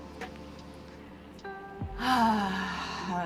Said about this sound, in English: take a big breath in through your nose